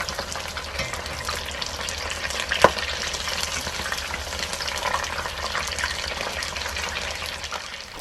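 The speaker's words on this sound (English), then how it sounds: "Deep fry the shrimp" Shrimp bubble in a pot of hot oil, giving a steady, close hiss of deep frying that holds evenly throughout, with a single sharp click partway through.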